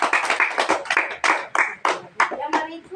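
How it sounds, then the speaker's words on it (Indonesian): A small group in a classroom lesson claps hands together in a quick, rhythmic pattern of distinct, fairly close claps, about a dozen sharp strikes over a few seconds, with faint voices mixed in. "tepuk tangan untuk semua"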